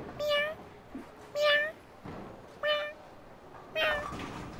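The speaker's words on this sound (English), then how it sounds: "That's a kitten mew right there." A kitten mewing four times in short, high, plaintive calls spaced about a second apart, close and clear over a faint background hiss.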